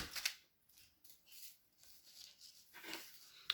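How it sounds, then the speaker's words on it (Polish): Scissors snip through patterned gift-wrapping paper, giving a series of faint, close, crisp cutting strokes with short pauses between them in a quiet room. "Po lewej stronie także wycinamy wycinamy odrobinkę przed miejscem, gdzie będziemy zaginać naszą kartkę na pół."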